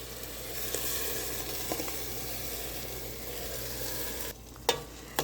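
Five roughly chopped, pureed tomatoes sizzle and hiss in a hot pan with onions for tomato rice with chicken, a steady, bright frying hiss under intermittent stirring, with a brief drop and a couple of sharp clinks near the end.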